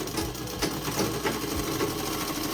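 Sewing machine stitching a double seam on a dress, a fast rattling mechanical chatter with a steady needle rhythm and a few heavier thumps, close and continuous with no speech.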